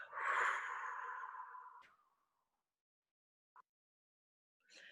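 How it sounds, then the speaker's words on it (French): A deep breath is drawn in and then pushed out through the mouth in a long, soft, airy exhale lasting over a second, followed by silence and a faint short breath near the end. "de bloquer votre respiration et d'expirer en soufflant par la bouche"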